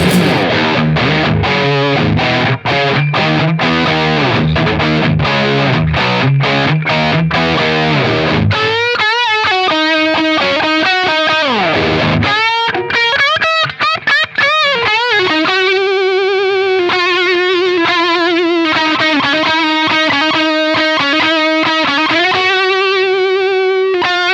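Electric guitar played through a Mosky D250X, a cheap clone of the DOD 250 overdrive pedal, set to maximum gain: loud, continuous distorted chords and sustained notes with no talking.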